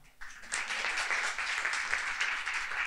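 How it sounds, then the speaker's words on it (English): Warm audience applause welcoming a panelist onto the stage at a student finance panel, a fairly quiet, steady burst of clapping from a modest crowd. "And also the same warm applause for Maya Kaleb."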